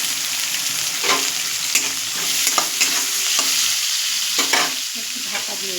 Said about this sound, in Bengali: এবার আমরা গাজরটা দিয়ে দেবো। আপনারা চাইলে গাজর আর আলুটা একসঙ্গে ভেজে নিতে পারেন